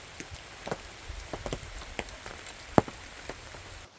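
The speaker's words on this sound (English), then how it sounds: "Not a bad way to enjoy the rain." Rain pattering on a camping awning beside a teardrop trailer at a boondock campsite, a steady soft patter with scattered louder drips and one sharp drop standing out, no voices.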